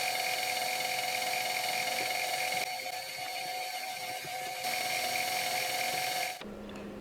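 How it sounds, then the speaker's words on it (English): A small drill on a mini lathe setup bores tiny tap drill holes for 2-56 bolts, giving a steady high-pitched whine that runs continuously, then cuts off abruptly near the end, leaving a quieter hum. "And drilling the tap drill holes for the 256 bolts."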